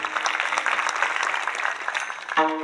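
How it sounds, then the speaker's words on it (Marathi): An audience claps hard at a Marathi kirtan, a dense burst of many hands applauding together, loud and close. A brief tonal sound cuts in near the end. "एकदा टाळ्या वाजवा जोरदार"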